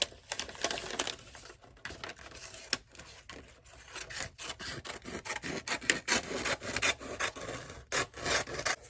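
A Christmas craft piece cut out by hand, with continuous close scraping and rasping strokes and quick rhythmic cutting taps, moderately faint with no voices.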